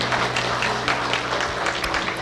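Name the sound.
applause from church congregation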